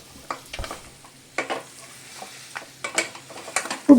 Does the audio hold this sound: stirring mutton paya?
yes